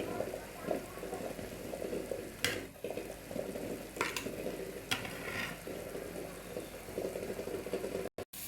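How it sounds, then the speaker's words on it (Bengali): Eggs lightly frying in a pan, producing a steady low sizzle and crackle with a few brief clicks and scrapes, faint and continuous before cutting off abruptly near the end. "আমি ডিমগুলো হালকা ভেজে নিচ্ছি"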